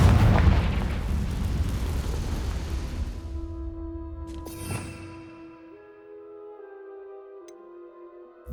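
A Confringo fire spell blasts in the Hogwarts Legacy game, a loud rumbling explosion that decays into a sharp crack and then fades into ringing, sustained magical tones.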